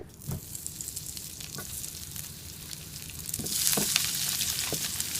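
Marinated chicken shallow-frying in hot coconut oil, a constant crackling sizzle with a few clinks of a utensil against the pan, growing louder and more intense toward the end.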